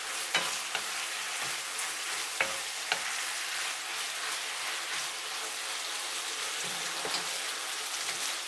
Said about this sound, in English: Finally, add the green onion. Briefly stir and turn off the heat.